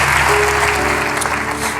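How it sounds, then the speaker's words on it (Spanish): A church congregation applauding during a service, a full, sustained burst of clapping from many people with a faint tonal hum beneath, loud and close. "Vamos a darle un fuerte aplauso al Señor"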